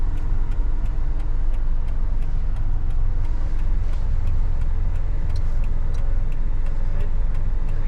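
A car passes on the road during a driving lesson, a steady broadband road and engine rumble holding at even loudness throughout, with faint regular ticking over it.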